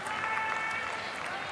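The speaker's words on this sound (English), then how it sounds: "And a good round of applause from the crowd for Jason Chi" A crowd applauds at a men's singles SM2 table tennis match at the 8th ASEAN games, a soft, continuous patter of clapping in a hall, heard under a commentator's voice.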